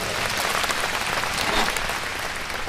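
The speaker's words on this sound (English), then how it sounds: "Give yourself a big round of applause, everybody." Audience applause fills a convention hall at the 2014 Asian Networkers Convention, with dense, steady clapping that holds loud and even for the whole stretch.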